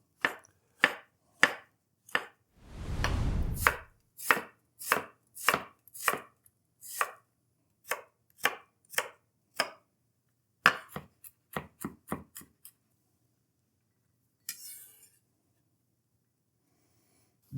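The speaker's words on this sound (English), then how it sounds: "Next, cut your mushrooms. I'm going for a little bit chunkier slices." Knife slicing mushrooms into chunky pieces on a cutting board, a long run of crisp evenly spaced chops close up, with a brief rustle early on and a short scrape near the end.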